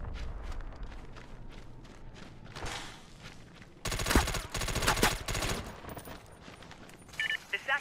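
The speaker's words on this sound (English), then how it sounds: "I was being shot at from somewhere" Rapid automatic gunfire in SOCOM Confrontation, played on the Urban Wasteland map, comes in dense, loud bursts in the middle of the clip, preceded by lighter clattering and footsteps.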